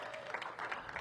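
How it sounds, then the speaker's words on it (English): A brief burst of indoor audience applause at a mayoral sports announcement, scattered clapping that sounds somewhat distant and soft. "give them a big round of applause."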